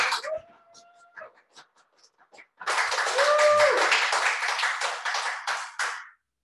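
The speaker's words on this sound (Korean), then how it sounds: "박수로 환영해 주십시오." After a stretch of quiet with a few isolated sounds and a short voice, an audience at a political lecture breaks into loud, dense clapping to welcome a speaker. The clapping holds steady for about three seconds and then stops abruptly.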